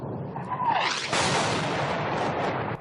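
An artillery shell whistles in, then a loud, close explosion bursts and rumbles in a market in Donetsk, its roar lingering and slowly fading.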